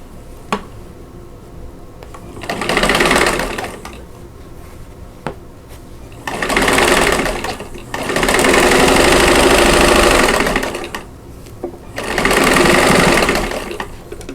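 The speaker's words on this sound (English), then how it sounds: "we're going to sew the 2 rows together" A sewing machine stitches two rows of a Louisiana Variation quilt block together in four loud, close bursts of rapid whirring, separated by short quiet pauses.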